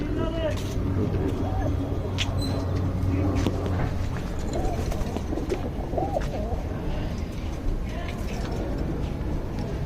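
Pigeons in a loft give soft, repeated low coos scattered through the stretch, heard under near, steady talking with faint passing traffic in the background.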